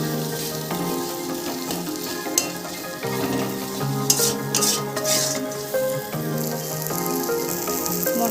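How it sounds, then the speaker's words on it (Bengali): Masala spice paste fries in oil for a bottle gourd and shrimp curry, a loud continuous sizzle with repeated scraping strokes of a spoon stirring in the pan, close and without talk. "মশলাটা খুব ভালোভাবে কষিয়ে নিয়েছি পাক দিয়ে তেল ছাড়তে শুরু করেছে"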